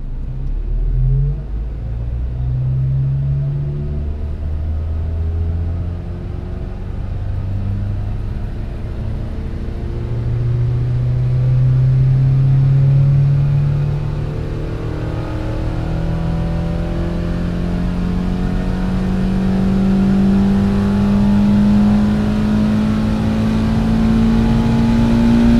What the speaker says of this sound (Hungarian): Gyönyörű hangja volt az autónak, egészen 7450-ig pörgött le